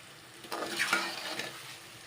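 Zucchini curry being fried and stirred in a pan, with a soft sizzle under a few scraping strokes of a spatula, fairly quiet and close.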